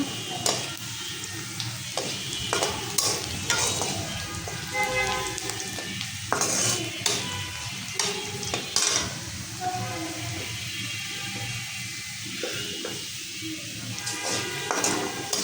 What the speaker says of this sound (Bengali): পেঁয়াজ রসুন তেলে দিচ্ছি একটু জিরা দিই